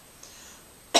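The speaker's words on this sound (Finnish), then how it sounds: "Yskin eka." A single short cough, close and sharp, right at the end after near silence with faint room hiss.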